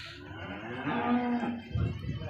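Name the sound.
cow mooing at cattle market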